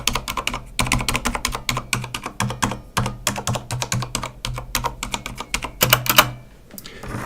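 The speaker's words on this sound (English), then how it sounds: "the sound of the Corsair here with the silent keys" Silent-switch keys on a Corsair Strafe keyboard are typed in quick bursts of soft, muted taps with brief pauses between runs, close up and fairly quiet.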